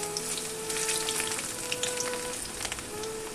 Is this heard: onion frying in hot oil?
yes